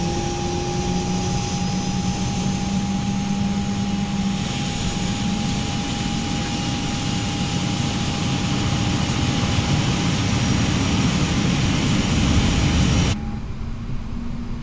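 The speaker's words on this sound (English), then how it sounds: "You hear the engine is so powerful." A loud, steady jet engine roar with a high whine from a Boeing 777 airliner in a flight simulator game drones continuously, then drops suddenly near the end to a quieter rumble.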